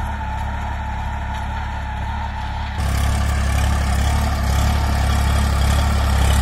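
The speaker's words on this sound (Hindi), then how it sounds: "9 का टीलर खींच रहा है ये ट्रैक्टर" A New Holland 3032 35 hp tractor strains while pulling a 9-tine tiller, its engine a loud, steady low drone that grows heavier and rougher partway through as the load increases, with no voices.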